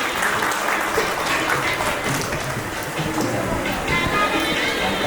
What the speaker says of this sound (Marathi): टाळ्याच्या गजरात त्यांनी स्वागत करायचं